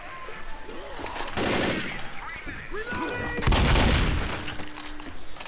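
Gunfire in Left 4 Dead, repeated rapid bursts of automatic weapons and booming shots mixed with game chaos, loud and close, with people talking over it.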